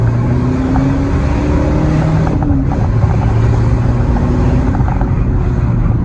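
A loud, anti-social used car bought off an online marketplace idles at close range, a heavy steady engine drone with low rumbling tones and a brief dip in pitch partway through, no talking.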